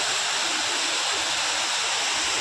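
A dense, steady roar of water falling at Harkul Khurd Dam fills the whole clip, loud and close, with no pauses or voices.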